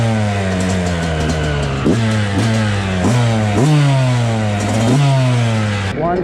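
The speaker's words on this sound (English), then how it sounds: "Gonna take it easy though, gotta warm up the bike." Yamaha YZ 125 two-stroke dirt bike engine revving close up, a steady high buzzing idle broken by repeated sharp blips of the throttle that rise and fall several times, with no talking.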